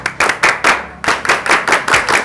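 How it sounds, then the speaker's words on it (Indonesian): A small group of friends claps the Indonesian scout clap (tepuk pramuka) in unison, loud close-up bursts in the pattern of three quick claps, then a pause, then a longer run of quick claps, with no talking. "Coba tepuk pramuka ya."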